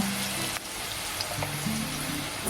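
Potatoes frying in hot oil with bay leaf and cumin, a steady soft sizzle running throughout with faint clinks and a brief dip near the start, close and moderately loud with no voices.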